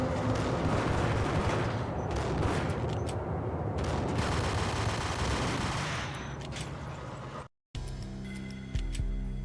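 Beretta pistol fire in the shooter Max Payne sounds as a steady stream of loud, closely spaced shots mixed into busy action noise, then cuts to a brief silence and a quieter ambient tail.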